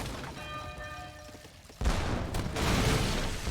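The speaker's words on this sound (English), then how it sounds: "Does do a volley fire there, but that is not going to be good for the structure." Volley fire from musket units strikes an outpost in an Age of Empires 3 battle, a sudden loud crackling burst that follows a quieter stretch of faint tones.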